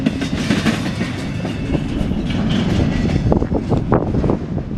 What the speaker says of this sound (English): that was CSX, I-147. It came from Baltimore, Maryland, and it's going to Chicago, Illinois